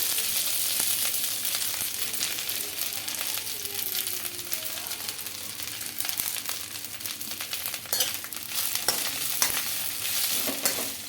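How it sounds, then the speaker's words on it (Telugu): Washed drumstick leaves dropped into hot oil in a kadai sizzle and crackle steadily up close, with occasional scraping and stirring sounds and brighter spurts of spitting oil toward the end. "ఇప్పుడు ఇందులోకి కడిగి పెట్టుకున్న మునగాకు అయితే వేసుకుంటున్నానండి"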